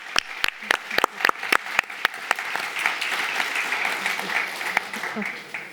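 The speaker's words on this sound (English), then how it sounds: "And also a very big round of applause for the excellent speakers" An audience at an open government partnership event in Tallinn applauds the speakers, starting with a few sharp, spaced claps that build into steady, full applause as a voice speaks over the start.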